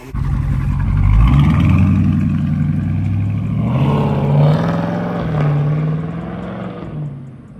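Debadged Dodge Charger ScatPack pulling away, its deep engine rumble swelling as it revs through gears, then fading into the distance.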